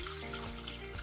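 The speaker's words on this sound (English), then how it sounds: "Now we add water." Water pours steadily from a tap into a cooking pot while making Haitian stewed conch, a continuous close splashing fill lasting about a second with no talk.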